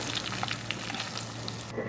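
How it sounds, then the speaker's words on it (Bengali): Egg cutlet mixed with onion and coriander frying in a pan, a continuous close sizzle with small pops that cuts off sharply near the end. "এই যে আমার ডিমটা ভাজা হয়ে গেল।"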